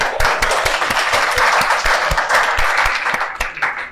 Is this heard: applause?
yes